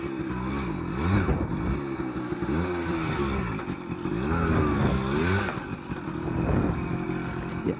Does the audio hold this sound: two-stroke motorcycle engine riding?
yes